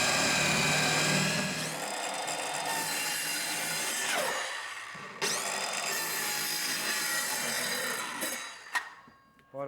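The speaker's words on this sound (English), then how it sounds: "You're just drilling holes in the corner so you can get the jigsaw blade in there?" A power drill bores holes into wood for a jigsaw blade during kitchen work, in steady bursts, the motor whining loudly and pitch dropping as the bit bites, with brief pauses between holes.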